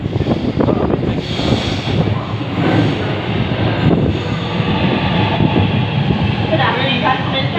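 A train arriving at a station platform rumbles and rattles in a broad, noisy wash, fairly loud and close, with faint voices mixed in.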